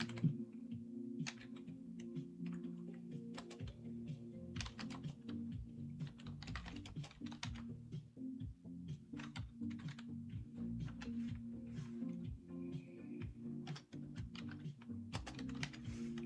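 Someone types steadily on a computer keyboard, close and quiet, with irregular bursts of clicky keystrokes and short pauses, no voices.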